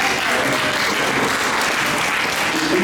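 A tour group audience on a school trip to Salem gives a loud, continuous round of applause, a dense wash of many clapping hands throughout.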